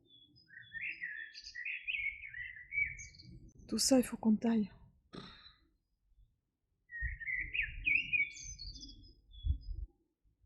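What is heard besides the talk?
birds chirping outdoors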